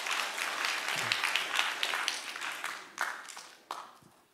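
A church congregation at a new-members seminar applauds in a fairly soft, dense patter, with a few sharper claps standing out as it thins toward the end.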